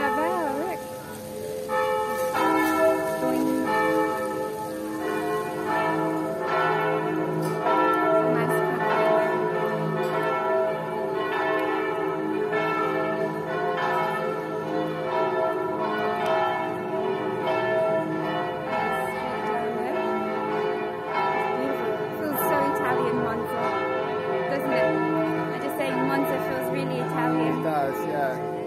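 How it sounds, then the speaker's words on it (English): Church bells peal in a town square in Monza, Italy, steady repeated strikes ringing throughout at moderate distance, with faint ambient street sound underneath. "Oh, there goes the bell."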